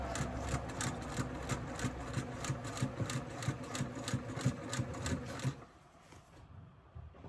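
Sewing machine stitching a curved quilt block, a fast, steady mechanical chatter of the needle running close and loud for about five seconds, then stopping into quiet.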